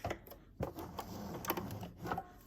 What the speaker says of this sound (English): And this is the zigzag stitch, F. It's like a wide zigzag.